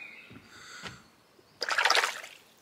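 Cold water in a filled bath, a few faint drips and small movements early on, then a loud, close splash and slosh of water lasting about a second before fading.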